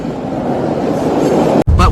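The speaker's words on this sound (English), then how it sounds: "Hold on, this train going by." A train passing close by gives a loud, steady rumble and rattle of rail cars that fills the whole stretch, cut by one brief dropout near the end.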